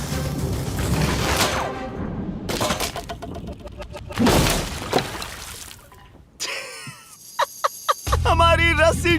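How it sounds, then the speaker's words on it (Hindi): A rope snaps and a heavy water bag of over 45 kilograms, dropped from a height, bursts and splashes across the ground outdoors in a forest, followed by loud rushing, spattering water and a few sharp knocks near the microphone. "हमारी रस्सी टूट गई और सारा पानी जमीन पर बह गया।"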